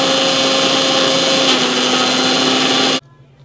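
A kitchen mixer grinder whirs loudly at high speed while grinding spices with a little water into a thick paste for mutton liver gravy, then cuts off abruptly near the end.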